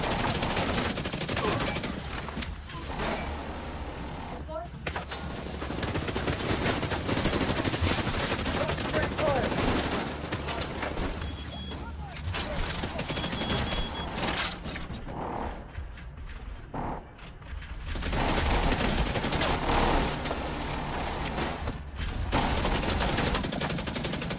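Near-constant automatic gunfire in The Division video game, with rapid bursts and crackling shots close by, pausing briefly and then resuming; a voice calls out over the firing.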